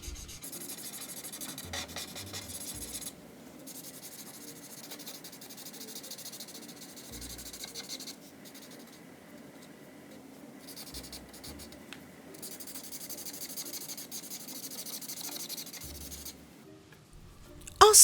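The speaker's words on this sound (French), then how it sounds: "Ensuite, on va colorier la plante du badge en vert." A pencil rubs steadily across paper while coloring a Peppa Pig picture, a close, soft scratchy shading sound in long continuous strokes with brief pauses between passes.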